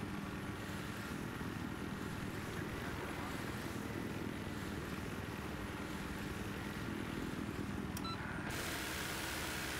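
A gunship helicopter in Battlefield 3 on the Armored Shield map, a steady loud rotor and engine drone filling the whole stretch with dense game noise, cutting off sharply near the end.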